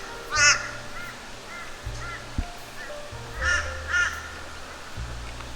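A flock of crows caws in a forest lake setting, with several harsh calls in short bursts, some close and others farther off, over a low steady background hum.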